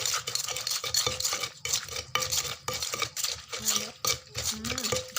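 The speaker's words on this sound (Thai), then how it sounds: "ใส่ลงไปแล้วก็ทำการคลุกเคล้า คลุกเคล้าให้เข้ากัน" A Thai pounded rice noodle salad is mixed by hand in a bowl, with rhythmic close scraping, stirring and utensil clinks in steady strokes and no talking.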